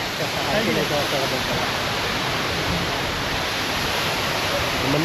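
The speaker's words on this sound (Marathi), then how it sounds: "सवसळा धबधबा पाण्याची सुद्धा एक वैशिष्ट्यच आहे कारण एवढं उंचावरून पडतो हा धबधबा" Savatsada waterfall near Chiplun drops from a great height, making a dense, unbroken roar of falling water that stays loud and even throughout.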